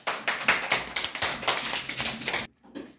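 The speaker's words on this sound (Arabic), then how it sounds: "هيا صفقوا لمحمد" A group of children in a classroom during an Arabic alphabet lesson clap for a classmate, with quick uneven claps that are close and lively for about two and a half seconds before stopping abruptly.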